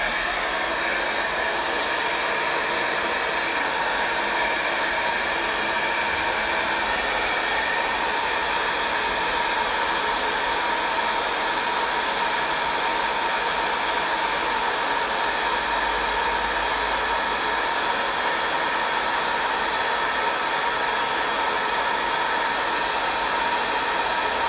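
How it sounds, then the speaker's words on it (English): A handheld hair dryer blows steadily on fresh acrylic paint, a loud, unbroken airy whoosh that holds close and constant throughout with no talk over it. "So I'm just gonna get my hair dryer."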